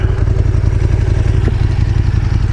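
A KTM 1290 Super Duke GT motorcycle rumbles with a deep, loud, steady engine throb close by, a low pulsing drone running evenly throughout with no voices.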